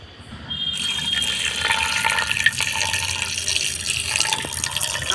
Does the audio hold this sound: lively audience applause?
no